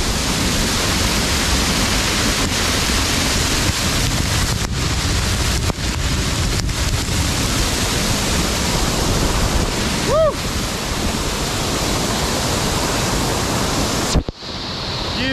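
Close-up roar of a waterfall in Samaipata, Bolivia, a loud continuous broadband rush of falling water that fills the whole clip, with brief handling bumps and a faint voice near the end.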